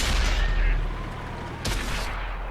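Tank cannon firing in World of Tanks on Xbox One, a heavy booming blast with rumbling tail, followed by a second sharp impact crack about a second later, over continuous engine and battle noise.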